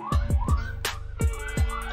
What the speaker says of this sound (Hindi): बे यार ये एम्बुलेंस